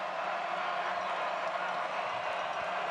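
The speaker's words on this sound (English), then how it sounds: "Crowd that is left here at M.M. Roberts Stadium making some noise on a 4th down and 4." The crowd at M.M. Roberts Stadium roars at a college football game between Appalachian State and Southern Miss, a broad, steady wash of distant cheering and noise that holds throughout at moderate level.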